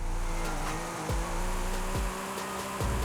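An Infiniti Q60 drift car in the racing game Forza Horizon 5 holds a steady engine drone, with quick downshift-like dips and rises in pitch repeating several times, loud and alone without talk.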